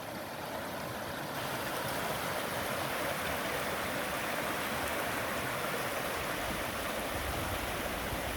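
A stream rushes around rocks in Victoria, a dense, steady hiss of flowing water that stays loud and close for the whole stretch with no talk.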